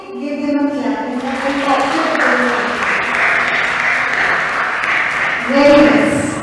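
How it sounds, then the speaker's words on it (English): Audience in a medical lecture hall applauds, steady clapping from many hands swelling for several seconds and then tapering, with a speaker's voice over the start and end. "give them a clap"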